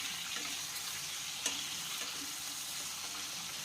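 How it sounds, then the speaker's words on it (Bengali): Potatoes with salt and turmeric frying in a pan for a vegetarian drumstick dish, a soft continuous sizzle with a few light stirring clicks, close but quiet, no talk. "আর এখন এই আলুটাকে লাল করে ভেজে নিতে হবে।"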